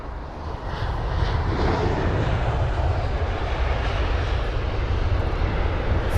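An Airbus airliner landing at Heathrow: its engine roar swells in the first half second, then holds as a loud, steady rumble near the listener.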